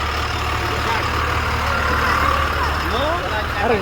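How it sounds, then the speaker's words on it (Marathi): Large trucks and buses on a main road, a loud continuous engine rumble and traffic roar with passing vehicles, close by, with voices talking over it. "मोठ्या मोठ्या गाड्या इथून जात हा होत"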